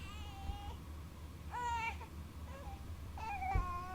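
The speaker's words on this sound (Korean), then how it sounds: "애기 울음소리가" A baby cries in a dark hotel corridor in a horror game, with several short wavering wails separated by pauses, fairly clear over a low hum.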